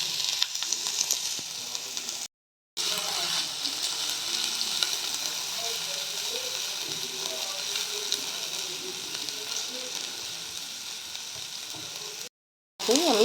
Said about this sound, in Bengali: এবার আমি এই পেঁয়াজ, রসুন, কাঁচা লঙ্কা দিয়ে দিলাম, এগুলো ভেজে নেব